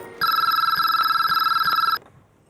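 Telephone bell rings in a home during a TV drama scene, one loud, close, continuous trilling burst lasting under two seconds before cutting off.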